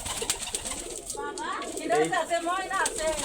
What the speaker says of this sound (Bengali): এখানে অনেক জাতের কবুতর দেখেন